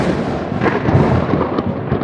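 Thunder from a thunderstorm rolls as a loud, continuous, deep rumble with no clear break, heard alone without any voices.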